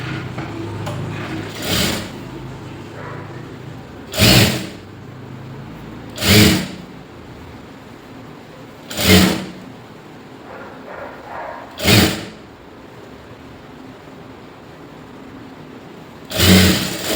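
Sewing machine stitching a folded blouse lining piece, short bursts of rapid stitching repeated about six times at roughly two-second intervals, close and clear with quiet pauses between.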